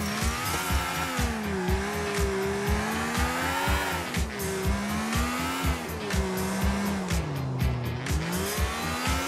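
In Grand Theft Auto IV, tire squeal over a revving engine as a car drifts, the screech wavering continuously with engine pitch rising and falling, loud and close.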